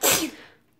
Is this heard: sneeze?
yes